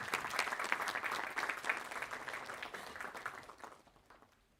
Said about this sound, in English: Can we have a huge round of applause and welcome Mr.